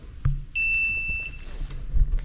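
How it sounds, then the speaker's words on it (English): A single steady electronic beep from a snowmobile's electronics powering up sounds for under a second, high-pitched and close, amid faint low mechanical knocks. "Beeps are good things."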